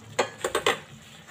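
A lid set onto a cooking pot of kinunot na galunggong with malunggay, heard as four quick metallic clanks close together before it settles, with no talking.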